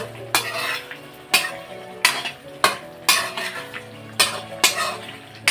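A spoon stirs cashews around a cooking pan for a green chicken dish, each stroke scraping and clinking against the metal with a light sizzle underneath, about eight strokes spaced roughly a second apart, close and fairly loud.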